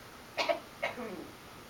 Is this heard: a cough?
yes